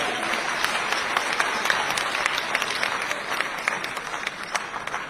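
Audience at a Doctors' Day event in Chhattisgarh applauds to welcome Chief Minister Vishnudeo Sai, with steady, dense clapping that holds loud and unbroken throughout.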